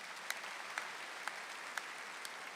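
A church congregation at a Wednesday Mass gives soft, steady applause, a faint even patter of many hands with a few sharper individual claps standing out.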